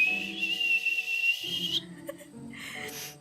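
A human voice imitates a boiling kettle's whistle with a sustained, high, steady pitch that holds for about a second and a half, then breaks off into softer breathy whistling.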